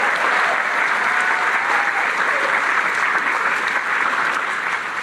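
A crowd applauds steadily at a public event in Arizona where Vice President Kamala Harris appears, a loud, dense and even clapping that carries on for several seconds with no talk over it.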